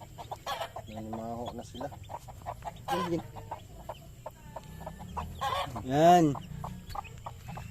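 Chicks peep and chirp near a rural hut among clucking chickens, in short scattered calls at close range, with people talking quietly in between.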